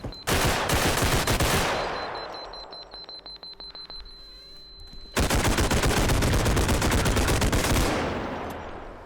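Gunfire in a realistic first-person shooter: loud, rapid automatic bursts that echo and fade, a short gap filled with sharp mechanical clicks and a faint tone, then another sustained burst that trails off.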